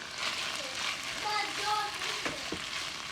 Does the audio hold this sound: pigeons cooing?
no